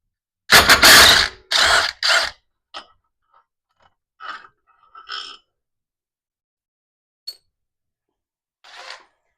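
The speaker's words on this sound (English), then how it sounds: "I'm going to use a impact to take this off" A Ryobi impact wrench working on a 2004 Polaris Ranger 500 clutch bolt: three loud, close hammering bursts of about a second each, followed by sparse faint clicks and short rattles amid near silence.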